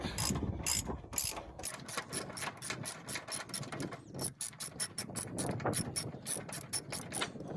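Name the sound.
ratchet turning bolts on a cabover truck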